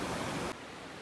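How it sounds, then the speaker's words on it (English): A mountain waterfall on a backpacking trail near Shadow Lake roars as a dense, steady rush of broadband noise that drops abruptly to a softer level halfway through. "That waterfall is really becoming cool because you can see it from the side now"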